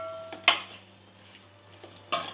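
Chicken chindhamani stirred with curry leaves in a pan, with two sharp clanks of a spoon against the pan and soft scraping between them, close and otherwise quiet.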